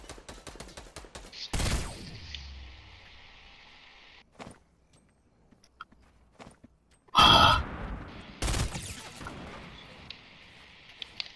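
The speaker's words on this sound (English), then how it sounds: "Someone's shooting you." Video game gunfire comes as a quick burst of shots at the start, then sharp, loud isolated blasts and a short rattling volley stand out against near silence, with faint footsteps and a sigh between them.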